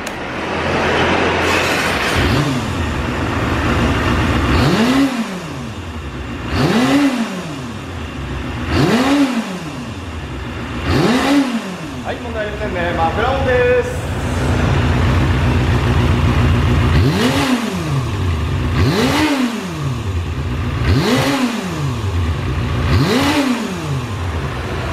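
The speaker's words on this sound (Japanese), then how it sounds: "エンジン吹き上がりいきたいと思います。" A black Kawasaki Balius II motorcycle with a ZXR250 engine revs repeatedly at a dealership, about eight sharp throttle blips rising and falling in regular succession, loud and close with an idle between them.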